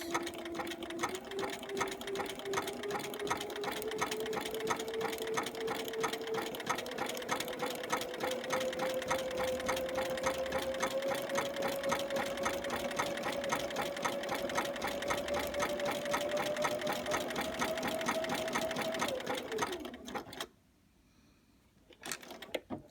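A sewing machine stitches appliqué in a steady, fast mechanical whir whose pitch rises slowly over about twenty seconds, then stops abruptly with a brief click and near silence.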